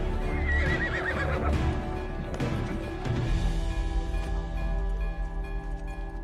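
Horse neighing close by in a Bollywood action film scene, a loud shrill whinny followed by shuffling hooves and a steady low rumble beneath.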